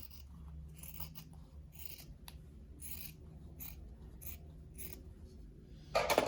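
Scissors cutting down the center of quilt fabric, a close series of crisp snipping and sliding strokes repeating at an even pace against a low steady hum.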